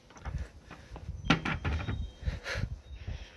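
A wooden cupboard door is handled in a garage workshop, giving several knocks, thumps and scraping shifts at close range, with one sharper bump partway through and no talking.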